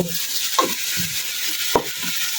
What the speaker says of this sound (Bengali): এখন সামান্য পরিমাণের একটু পানি দিব